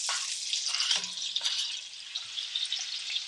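Shrimp frying in a pan, seasoned with black pepper, for a quinoa risotto with mushrooms: a steady close sizzle with a few soft stirring clinks and scrapes.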